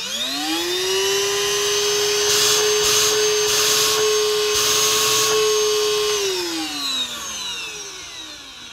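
An EZIclean Cyclomax Air Animal 2-in-1 cordless stick vacuum runs steadily at a high whine, loud and close, then winds down as it is switched off near the end.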